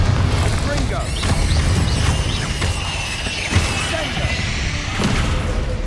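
Confringo spell blasts in the video game Hogwarts Legacy, heavy booms and crashing impacts with rumbling debris, layered under game music and a voice.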